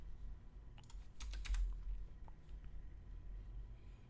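A brief burst of typing on a computer keyboard, a handful of close, crisp key clicks clustered in the middle, over a faint low hum with no speech.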